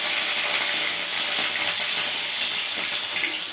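Pointed gourd frying in a pan gives a steady, close sizzle with a bright crackling hiss that runs unbroken the whole time, and no voices are heard.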